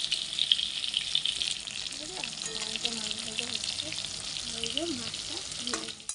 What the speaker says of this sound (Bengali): আর এই যে কড়াইতে এখনও মাছ ভাজা হচ্ছে